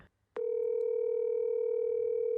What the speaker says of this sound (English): I can hear the ringing.